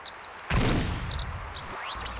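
A barrage attack in Inuyasha Feudal Combat lands as a sudden heavy impact with a whooshing burst, followed by a second rising swish, loud against quieter game background.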